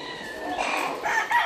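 Chickens in fly pens on a farm cluck and call loudly close by. A rooster-like crow rises partway through, and no one speaks.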